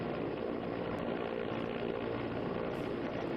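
An Air Force helicopter hovers over the Tawi river during a rescue of two stranded people near an under-construction dam, its rotor and engine making a loud, steady, unbroken roar.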